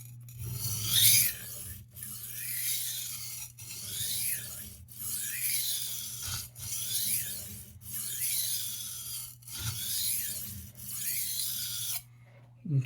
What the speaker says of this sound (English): use a tiny bit of pressure, and we're gonna cut a bevel into this blade.